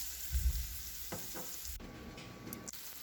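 Garlic, onion and tomatoes sauté in butter for an eggplant dish, a soft sizzle broken by a few light knocks and scrapes, with a brief louder frying burst near the end.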